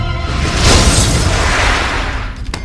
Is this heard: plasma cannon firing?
yes